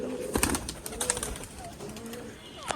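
Soft, low Teddy pigeon coos close by as a pair is put together, mixed with rustling and faint fluttering, plus a few sharper clicks and thumps.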